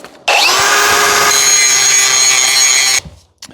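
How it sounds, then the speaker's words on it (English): Power grinder cutting down a metal lip on a part for a Unimog diesel engine swap, a sudden loud sustained high whine for about three seconds, then stopping. "got to grind this down so you can actually slide it in the direction that it needs to go"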